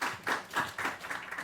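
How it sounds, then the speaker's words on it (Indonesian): A few faint, rhythmic hand claps from a small group at a family workshop, about five spaced beats in quick succession with no talk over them. "kita tepuk tangan dulu."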